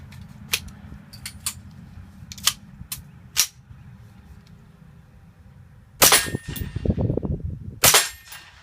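Kel-Tec CMR-30 .22 WMR rifle firing 40-grain CCI Maxi-Mag rounds outdoors, several sharp single reports spaced irregularly, followed by two louder, longer blasts with rumbling echo near the end; no talking.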